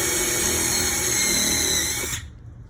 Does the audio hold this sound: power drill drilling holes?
yes